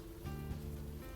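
Steady rain falling on a night-time street in the adventure game Unavowed, a soft continuous patter with low droning ambience and faint tonal hum underneath.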